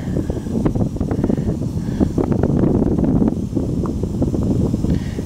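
Gusty wind buffets the microphone at an outdoor rocket launch site, a steady broadband rumble that swells and eases over several seconds with no other clear sound.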